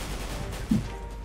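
Gunfire in Counter-Strike: Global Offensive, continuous low game noise with a single sharper shot standing out midway, fairly close.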